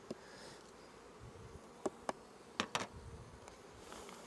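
Honey bees buzz around a hive and a small nucleus colony, a low, continuous hum close by, broken by a few sharp taps and knocks.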